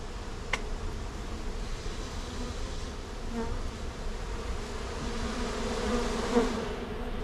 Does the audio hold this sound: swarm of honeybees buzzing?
yes